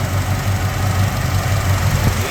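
A rebuilt AMC 401 V8 in a 1987 Jeep Grand Wagoneer idles steadily up close, with a deep, even low rumble and a faint rhythmic pulse, free of voices.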